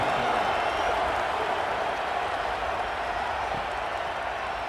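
Stadium crowd noise in the College Football 27 video game at a South Carolina home game, a broad sustained roar that eases slightly as it goes on, with no clear voices on top.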